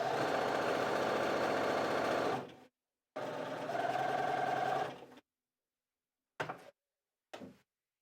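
A Bernina sewing machine with a gathering foot sews fabric ruffles in two loud steady buzzing runs of a couple of seconds each, followed by two brief short whirs with silence between them.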